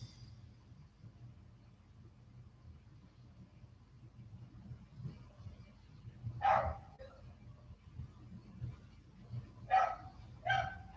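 A dog barks in a few short, sharp bursts, one single bark then a quick pair, fairly near against a low background rumble, with no talking.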